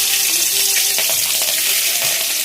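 Oil sizzles steadily and loudly in a pan while ingredients are fried for avakaya fried rice, a continuous bright hiss with faint stirring scrapes and no talk.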